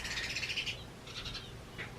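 A bird calls outdoors, giving a short burst of high chirping notes, then a second cluster and a brief final chirp, fairly clear over a low background hum.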